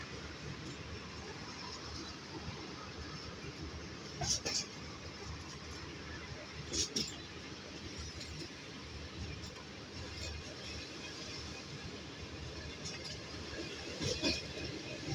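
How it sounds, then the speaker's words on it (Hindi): A passenger train rolls into Jahangira railway station in Pakistan, a low steady rumble of carriages with occasional metallic clinks and knocks over the running noise. "गाड़ी अब जहांगीरा रेलवे स्टेशन पे पहुंच चुकी है"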